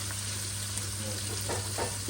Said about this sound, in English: it is cooking nice and sizzling